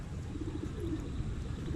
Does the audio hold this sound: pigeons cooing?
yes